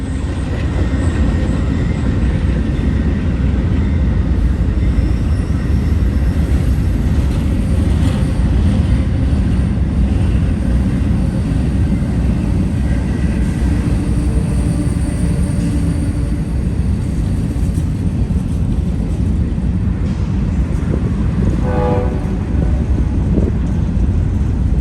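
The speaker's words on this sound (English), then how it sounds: "Amtrak 43 continues on his way west towards Pittsburgh." Amtrak train 43, led by a Phase 2 Heritage Unit locomotive, rolls steadily past heading west toward Pittsburgh, a loud continuous rumble of wheels and railcars with a brief horn-like tone near the end, no talk.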